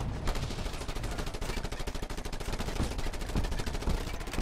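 Rapid automatic gunfire in the Just Cause 2 video game, a dense, continuous burst of closely spaced shots that stays loud throughout with no talk over it.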